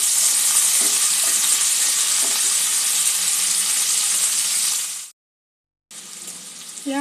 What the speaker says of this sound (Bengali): এগুলো একটু হালকা ক্রাঞ্চি করে ভেজে নেব।